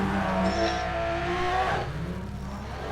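A Porsche rally car races in the video game NFS World with a loud engine whine that shifts pitch, rising and then dropping as the car speeds through a demolition derby.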